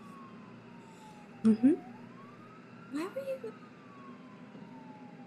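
An ambulance siren wails as a faint, slow rising and falling tone in the background, while voices speak briefly over it.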